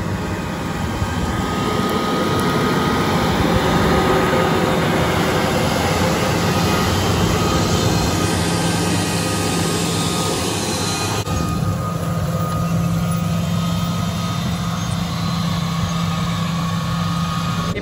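A New Holland T9.480 tractor pulling a 30-row Momentum planter runs steadily with a loud, continuous engine drone and broadband rumble, close and unbroken throughout with no talk.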